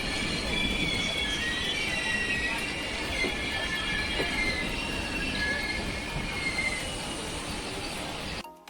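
The 12988 Ajmer Sealdah Express runs on Indian rails, heard from inside as a loud continuous rumble of wheels with high metallic squeals and rattling carriages, steady throughout before cutting off abruptly.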